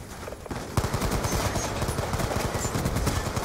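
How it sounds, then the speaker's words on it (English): Rapid automatic fire from a sentry gun in the Black Ops 2 video game, a loud, sustained stream of closely spaced gunshots after a short lead-in, with no voices. "It's a sentry gun."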